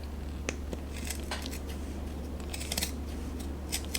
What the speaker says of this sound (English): And I'm going to use my big shears for this.